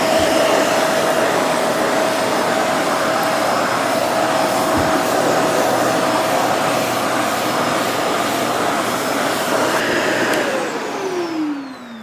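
A Shark Navigator Lift-Away Deluxe canister vacuum cleaner runs with a steady, loud whirring hum, then winds down with a falling pitch as it switches off.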